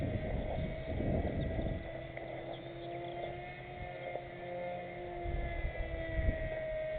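An RC jet plane with a low-kV 1300 kV electric motor and a 9x6 prop flying outdoors, a steady high-pitched motor whine with tonal hum that swells and fades as it passes, under light wind noise.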